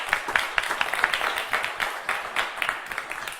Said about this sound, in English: how about one more round of applause for Roy Saunders on the first half of the show here today?